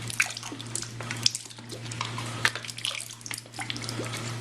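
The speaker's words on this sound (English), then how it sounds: "We're just going to add the hot water till we get up to our 5-gallon mark." Hot water poured into a 5-gallon wine fermenting container, a steady splashing, gurgling flow at moderate volume with scattered drips and plops, no talking.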